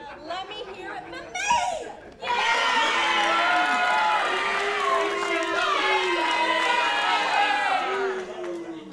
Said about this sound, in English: This crowd booing Shay Cassidy